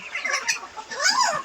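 Chinese ducklings and chicks on a farm chirp and peep in quick overlapping high calls, close and lively, with a few rising and falling cries mixed in.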